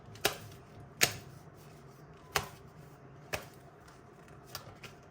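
Tarot cards drawn one at a time and laid down, about six crisp separate slaps and flicks spaced a second or so apart, close and fairly quiet against a soft room background.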